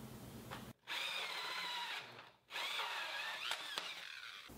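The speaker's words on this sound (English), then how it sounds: "We'll go ahead and hook one up, cut a hole, and give it a little test run." A hole saw on a power drill cuts through a lid to fit a hive top feeder, whining loudly in two sustained bursts separated by a brief pause, close and steady, with no talking.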